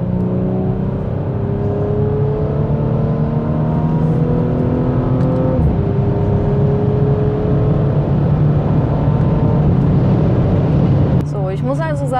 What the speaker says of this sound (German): Ja, ich würde sagen, ich gebe direkt mal Gas.